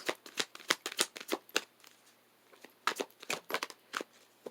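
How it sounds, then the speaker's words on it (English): Romance Angels oracle cards being shuffled in the hands, a close series of crisp riffling bursts that pause briefly, then resume before a card is drawn. "I'm going to pull a card from the Romance Angels"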